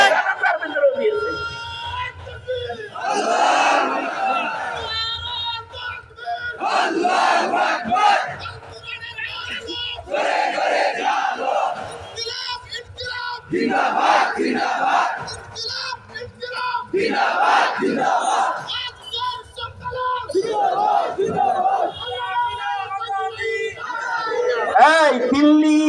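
Large crowd at a funeral prayer gathering in Bangladesh loudly chanting takbir in repeated call-and-response bursts, voices surging and dropping every few seconds, dense and close.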